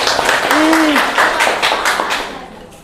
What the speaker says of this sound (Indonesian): Tepuk tangan dong untuk kelompok 8